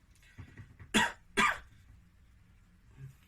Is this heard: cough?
yes